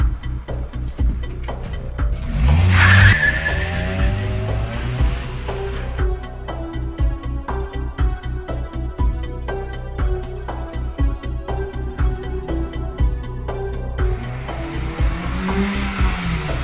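A car pulls away with a sharp tire squeal, then the engine revs and shifts through gears as it drives off, loud and close, with music underneath.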